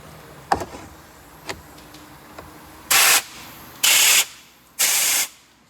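Compressed air from an airline blows in three short, loud hissing bursts along the roof weld of a Lexus RX400h, after a few faint clicks and knocks.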